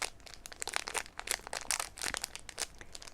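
Small plastic packaging bags that hold sets of dice crinkle and crackle up close in quick, irregular bursts with no speech.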